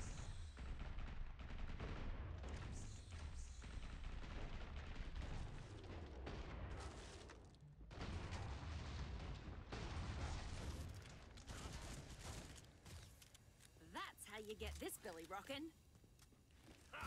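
Gunfire in the video game Killing Floor 2, a dense stretch of loud repeated shots and battle noise with a brief gap, easing off near the end, with players talking over it.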